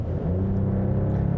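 Inline-six turbocharged engine of a 2021 Mercedes-Benz E 450 4Matic sedan revving, a loud, smooth low rumble that rises steadily while the car accelerates.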